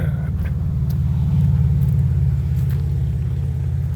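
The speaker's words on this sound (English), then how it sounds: "don't know if you can pick up the noise from the road" A steady low rumble of passing road traffic on a road by the Gulf fills the air, with the drone of car tires and engines close by and continuous throughout.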